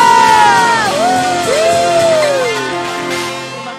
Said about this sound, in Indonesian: Sorakan haleluya, sama-sama katakan haleluya